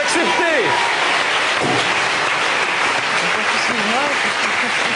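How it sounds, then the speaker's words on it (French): A television studio audience applauds a guest doctor, a dense, continuous wash of clapping that fills the whole stretch while someone talks over it. "On peut applaudir le docteur Ducan."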